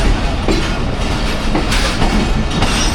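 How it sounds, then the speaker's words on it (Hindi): Pakistan Express train heading into Wazirabad Junction on an early, rainy morning run from Rawalpindi, heard from onboard as a loud, steady rumble with rhythmic clickety-clack of wheels over rail joints, with no talking. "3 minute early Wazirabad junction approach कर रही है ट्रेन"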